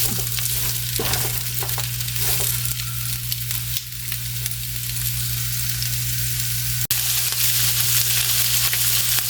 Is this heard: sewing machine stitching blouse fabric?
no